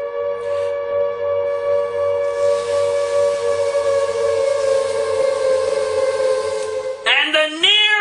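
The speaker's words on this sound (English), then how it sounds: "and the near-constant sirens!" A loud, sustained siren wail drones steadily with a low rhythmic rumble underneath, then shifts pitch abruptly near the end.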